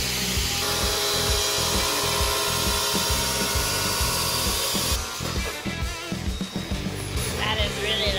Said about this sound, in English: gonna use a chop saw to cut the tube the length that he needs